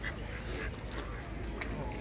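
Ducks and geese quacking and honking on Lake Windermere at Bowness, a few scattered close calls over a constant murmur of outdoor lakeside noise.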